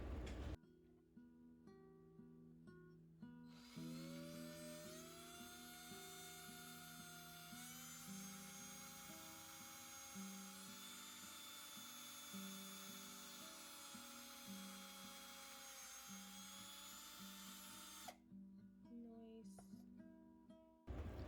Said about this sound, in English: Let's go ahead and use a hand drill.